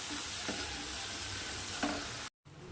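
Chopped tomato being sautéed in a pan over low gas, a soft continuous sizzle with a few light stirring scrapes, fairly faint and close.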